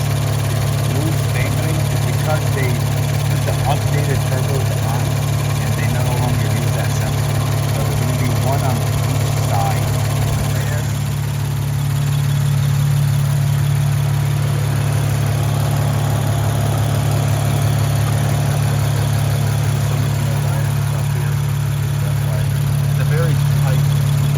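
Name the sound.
car engine idling with wastegate rattle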